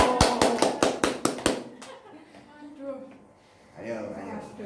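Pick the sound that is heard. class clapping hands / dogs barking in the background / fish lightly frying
class clapping hands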